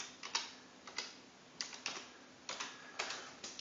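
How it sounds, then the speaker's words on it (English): Keys tapped on a computer keyboard to enter a command at a Raspberry Pi prompt, in short quiet bursts of a few clicks each, close and alone with no talk. "So we'll just type in start X"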